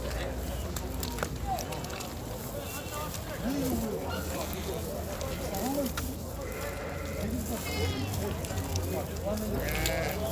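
Goats bleat repeatedly amid a busy crowd at a livestock market in Bishkek, with people talking nearby and animals shuffling throughout.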